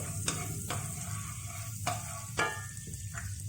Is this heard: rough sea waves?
no